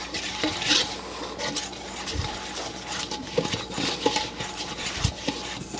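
Flour being mixed into a bubbly yeast and butter mixture in a bowl, soft irregular stirring and scraping strokes up close, with a couple of dull knocks of the utensil against the bowl.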